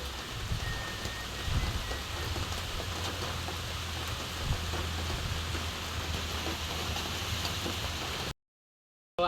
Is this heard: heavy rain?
yes